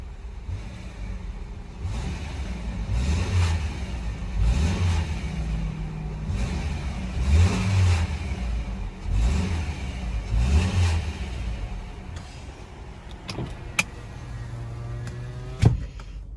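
A 2012 Subaru Legacy engine revs repeatedly in five rising-and-falling pulses, then settles into a smooth idle, heard close with a couple of sharp clicks near the end.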